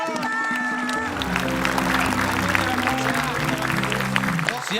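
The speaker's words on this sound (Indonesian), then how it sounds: "Boleh kita kasih tepuk tangan untuk Randy Pangalila" A studio audience on an Indonesian TV crossword quiz show claps for Randy Pangalila. Sustained clapping runs under loud, tonal show music throughout.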